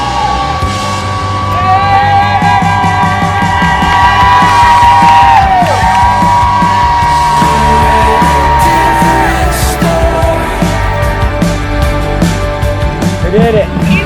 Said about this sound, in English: People are right there cheering.